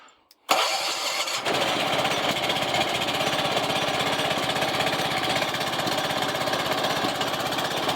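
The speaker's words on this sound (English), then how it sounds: "So this is its engine right here on my workbench." An overhauled small engine with a new head gasket and carburetor bursts into life on a workbench after a brief silence, then runs steadily at a loud, rapid, even idle for the rest of the clip.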